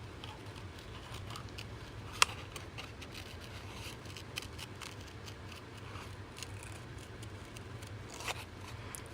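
Scissors snip around paper flowers in soft, quiet, irregular cuts, with a few sharper clicks and a light patter of paper handling, all close and faint.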